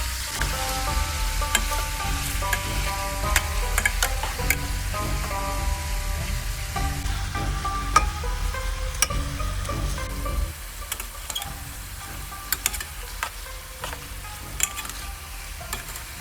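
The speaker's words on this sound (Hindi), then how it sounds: "अब इसमें स्लाइस्ड अनियंस भी शामिल कर देंगे और हाई हीट पे इन्हें भी भूनते रहेंगे" Steady sizzling of sliced onions frying on high heat in a pan for Kabuli pulao, with occasional stirring scrapes and crackles throughout, close and fairly loud, no talking.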